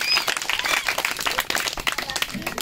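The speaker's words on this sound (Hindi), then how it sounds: "ताली बजाओ भाई किसान के लिए।" Children and adults at a school fancy dress competition clap for a child in costume, quick close applause for a few seconds that thins out toward the end.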